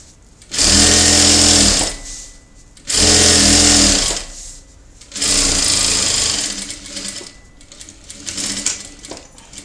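A sewing machine stitches the fabric of a cloth doll's double-sided skirt in three loud, close bursts of fast whirring, each two to three seconds long with short gaps, then softer fading runs.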